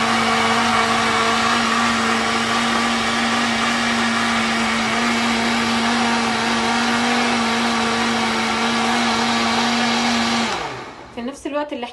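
A kitchen blender runs loud and steady, whirring through boiled lentils for about ten seconds before the motor cuts off and the blades spin down.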